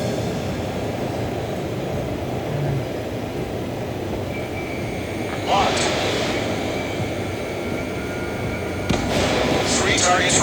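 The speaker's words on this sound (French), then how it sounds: "C'est des avions. Ils sont en train de péter des avions." Jet aircraft engines roar in the Ace Combat 7 combat flight game, a steady broad rumble throughout with louder swells near the middle and end as planes close in.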